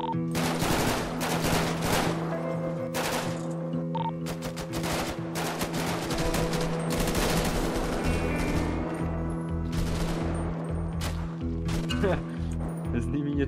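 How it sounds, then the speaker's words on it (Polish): Rapid gunfire from a mounted gun in GTA V, continuous bursts of shots throughout, loud and close, with people talking and shouting over the shooting. "Pakuj się na działko, dobra, strzelaj w nich!"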